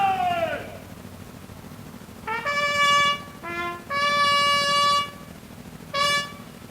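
A bugle sounds attention at a military change of command ceremony, several clear brassy notes in bursts separated by pauses, ringing out loud over a steady background hum.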